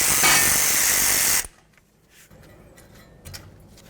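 A ratchet works loose the ABS sensor mounting bolt on a Ford Fusion front knuckle, a dense rapid buzzing clatter for over a second that stops abruptly, followed by faint tool taps.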